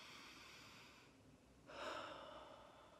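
A single quiet inhaled breath drawn in during a slow breathing exercise, a soft airy rush that rises sharply near the middle and fades, close and alone.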